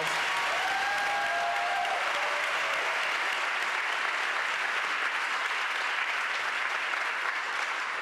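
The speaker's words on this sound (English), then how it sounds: "Can we give Dr. Jill Pittman, the Overton staff, and the wonderful, extraordinary, phenomenal students that we saw here a round of applause?" Sustained applause from a large audience at a school district's state of schools address, honoring staff and students; loud, even clapping that holds steady throughout, with a faint high tone briefly near the start.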